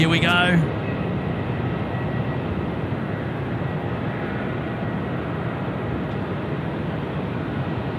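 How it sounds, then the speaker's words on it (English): A Boeing 747 rolls for takeoff at Sydney Airport at night, a broad steady jet roar that stays constant and fairly distant after a brief opening burst of voice. "Right, 747 rolling."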